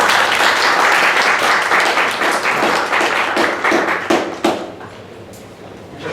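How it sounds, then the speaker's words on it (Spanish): An audience at a law faculty lecture applauds to welcome a speaker: dense, steady clapping from many hands that gradually thins, with a few scattered louder claps toward the end. "Por favor, demos un aplauso de bienvenida al doctor Ángel Alonso Trujillo."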